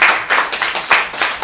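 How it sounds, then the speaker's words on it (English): After a talk, hands clap in a loose, uneven rhythm of distinct close claps that rises and dips, sounding like a small group or a single nearby clapper rather than a large crowd. "Let's get a round of applause."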